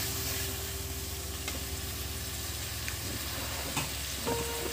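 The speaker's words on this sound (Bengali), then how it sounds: "একটু মশলার সঙ্গে চর্বিটা ভালো করে কষে নেবো" Mutton fat and spices sizzle steadily in a pan while being stirred, a close, continuous frying hiss with occasional scrapes and clinks, no voices.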